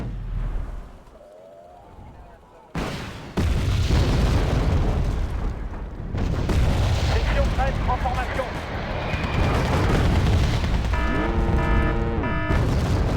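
Heavy artillery shells burst in a Wargame: Red Dragon battle on a North Korean front, a sharp boom near three seconds followed by sustained rumbling explosions and crackle, with game radio chatter and speech mixed throughout.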